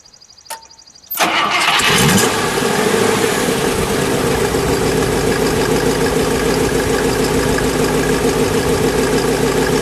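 A 1958 Buick Limited Convertible engine cranks briefly after a short click, then catches and roars up loudly before settling into a steady, rumbling idle close by.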